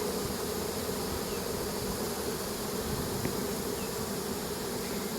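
A swarm of honeybees at a hive hums in a dense, steady buzz, with individual bees passing close now and then, with no voices.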